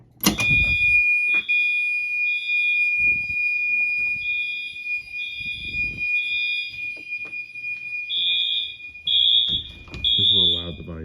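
A fire alarm sounds during a security system test, a loud piercing electronic tone pulsing in repeated beeps with a steady high whine underneath, close by, while people talk over it and there are knocks and handling noises.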